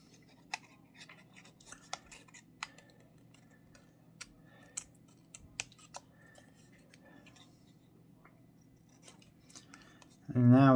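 Scissors snip through paper as a cat shape is cut out, in a series of faint, sharp, irregular clicks over a quiet room, and a voice starts talking right at the end.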